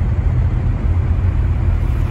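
Steady, loud low rumble of road traffic on a snowy mountain road near Big Bear, engine drone continuous and close throughout with no voices.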